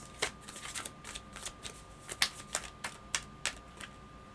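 A tarot deck is shuffled and cards are drawn, giving a quick run of soft, crisp flicks and riffles, close and fairly quiet, with no voices.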